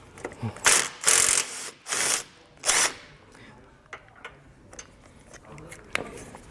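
Bolts being unscrewed from a car bumper impact bar on a 2022 vehicle, several short bursts of ratchet clicking with pauses between, close by, followed by quieter handling noises as someone talks.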